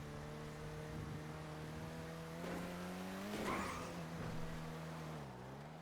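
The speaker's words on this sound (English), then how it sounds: "Oh, I hear a moped." Small moped engine in a GTA roleplay game, droning steadily with a harmonic whine that rises and dips as it revs, close and fairly loud throughout, with a brief scraping skid in the middle.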